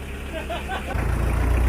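A tractor engine runs close by on a Thai farm in South Korea, rumbling steadily and growing louder and heavier about halfway through as the tractor is loaded with pelleted manure for spreading.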